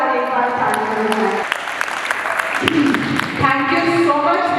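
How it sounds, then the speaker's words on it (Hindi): An audience at a teachers' felicitation ceremony claps for teacher Jyoti Didi, a burst of applause in a hall mixed with a voice speaking over a sound system. "मैं आप सबसे रिक्वेस्ट करूँगी कि उनके लिए जोरदार एक बार ताली बजाएं।"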